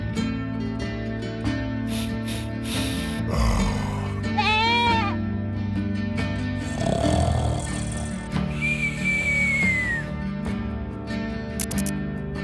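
Goats at a farm petting area bleating a few times amid a busy outdoor mix of people, a whistle-like tone and other background noise, calls moderately close.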